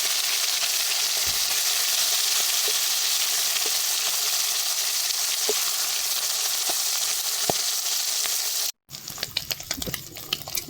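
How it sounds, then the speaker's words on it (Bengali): Amudi fish frying until crisp in hot oil, a continuous close sizzle with occasional soft utensil taps, ending with a brief cut to lighter crackling and clinks; no one speaks. "ভালো করে মচমচে করে ভেজে নেব।"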